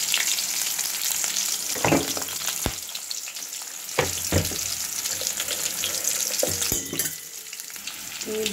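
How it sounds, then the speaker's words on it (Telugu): Chopped onion, garlic and green chili deep fry in hot oil, a continuous loud crackling sizzle broken by sharp clinks and scrapes of a utensil against the pan, with no talking. "బాగా డీప్ ఫ్రై చేసుకోవాలి."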